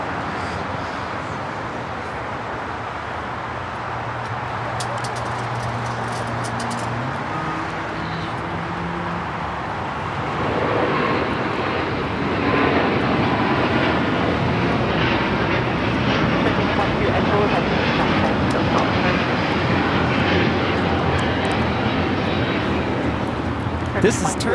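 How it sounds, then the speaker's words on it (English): A Turkish Airlines Airbus A350-900 takes off at Los Angeles airport with a steady engine roar that swells into a louder, broad rumble about halfway through and holds. "This is Turkish Airlines Flight 180 taking off to Istanbul on the A350-900."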